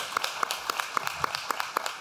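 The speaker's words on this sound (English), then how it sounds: "I just want to give them a round of applause again for stepping up and doing that." Faint, thin applause from a small audience at a storytelling event where people share their stories, a scattering of separate claps in an uneven rhythm, fairly quiet and somewhat distant, with no one talking.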